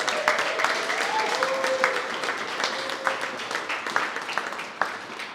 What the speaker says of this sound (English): if anything deserves a round of applause